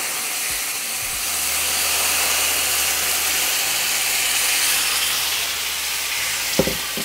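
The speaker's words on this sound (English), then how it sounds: "So now we're going to get ready to add our broth." Broth hitting hot golden rice in a pan sets off a loud, sustained steamy hiss and sizzle that swells and holds close and steady, with a couple of faint clinks near the end; no one speaks.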